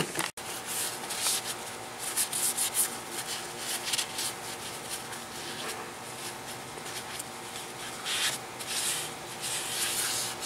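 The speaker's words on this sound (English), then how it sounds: "another thing to use to clean your wheels is some Windex" Car wheels are scrubbed clean with Windex, giving a continuous close rubbing and wiping sound with bursts of brisk strokes, steady and moderately loud.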